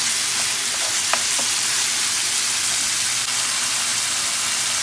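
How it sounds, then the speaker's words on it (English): Tomatoes and green pepper land in a pan of sizzling chicken fried rice, giving a loud, steady frying hiss with a few faint stirring clicks near the start. "I'm adding tomatoes and green pepper."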